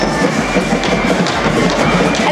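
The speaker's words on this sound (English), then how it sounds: "I love the noise. They're all cheering for their team." A dense stadium crowd at a sports pitch cheers for its team, producing a loud, continuous roar of many voices with no breaks.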